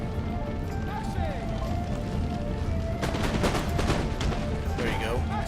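Massed musket volleys crackle in a battle against Prussian troops in Empire: Total War, a burst of rapid overlapping shots mixed with battle din and a voice speaking over it.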